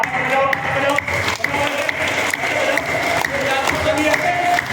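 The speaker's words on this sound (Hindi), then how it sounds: "जब ताली बजे तो ऐसे बजाओ ताली, बजाओ" Girls at an intermediate college clap their hands together in a brisk, uneven group rhythm, with repeated sharp bursts close by and a voice talking over the clapping.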